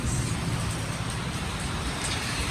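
Steady, dense heavy rain hisses continuously, a constant wash of drops with no voices.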